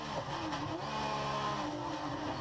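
Race cars on a track at the Monterey Historics, heard from inside a 1988 Nissan 300ZX Turbo: a steady, fairly quiet engine drone that lasts the whole short clip, with no talking.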